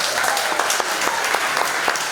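A crowd at a pre-K graduation ceremony claps steadily in a dense, continuous round of applause, moderately loud and close, with no voices standing out.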